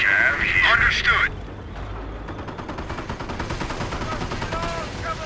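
Distant, muffled gunfire crackles steadily through a World War II battle in the video game Company of Heroes at Montebourg, Normandy, with a radio-style voice speaking over the opening second.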